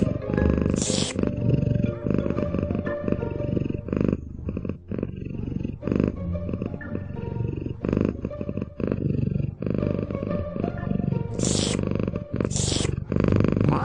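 A kitten purrs close up in a steady, rumbling rhythm of repeated low pulses, with a few brief higher sounds breaking through.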